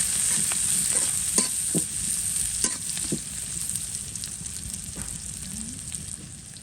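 Whole spices frying in a pan sizzle continuously up close, with scraping spatula strokes and occasional sharp clinks over the steady hiss.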